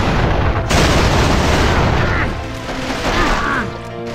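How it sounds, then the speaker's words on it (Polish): Loud gunfire rattles close by in the SAS: Anti-Terror Force video game, a dense burst of shots and booms aimed at the player, fading into scattered lighter reports. "Kto mnie strzela?"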